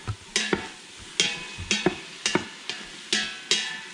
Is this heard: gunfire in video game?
no